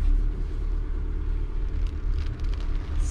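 A VW Transporter 6.1 camper van drives along a road with a steady low engine and road rumble inside the cabin, continuous and close throughout. No one speaks.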